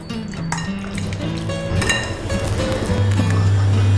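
Chicken biryani marinade being mixed in a bowl, a continuous wet squishing and stirring with faint clinks, with music playing underneath.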